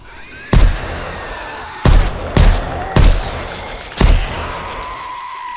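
Five sharp gunshots ring out in 7 Days to Die, loud and close, spaced irregularly, each with a short decaying tail, under a steady background hum.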